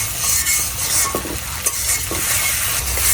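Shrimp frying with turmeric, salt and spices in a pan, a loud, dense, continuous sizzle close up, with a few faint stirring scrapes beneath it.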